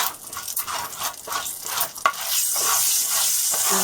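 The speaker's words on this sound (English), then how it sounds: "So as this one cooking, a little bit of roasting going on." Red pepper for a spicy curry sizzles and roasts in a pan, a steady close frying hiss broken by a few stirring scrapes, with no voices.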